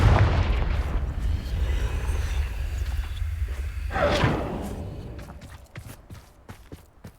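A Confringo fire spell blast in the Hogwarts Legacy video game: a deep rumbling burst opens loud, then a sharp whooshing crack flares midway and fades into quieter scattered pops and clicks.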